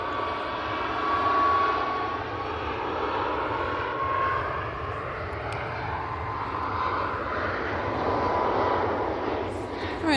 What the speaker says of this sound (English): Ryanair off to Madrid as the other Ryanair comes in.